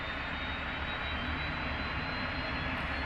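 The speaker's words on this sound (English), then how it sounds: "We'll listen to this APU spooling" Auxiliary power unit of a British Airways Boeing 787 in Microsoft Flight Simulator, a steady broadband turbine roar with a thin high whine, heard from outside the aircraft at constant level.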